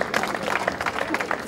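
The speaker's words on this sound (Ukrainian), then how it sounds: "Ваші аплодисменти." Applause from a crowd gathered at the opening ceremony of the Beskydy railway tunnel in Ukraine, a steady dense patter of clapping filling the short stretch, moderately loud and continuous.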